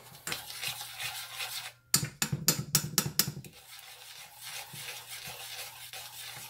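A spoon scrapes and clatters against a pot while German chocolate cake mixture is stirred on a stove, steady scraping with a run of sharp metallic knocks in the middle, over a low hum.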